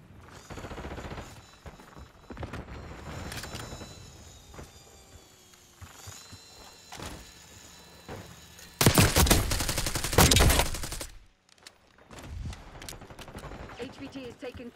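Bursts of automatic gunfire in a Call of Duty multiplayer match on the Derelict map, a heavy volley around the middle, mixed with game sound effects and announcer-style voice lines.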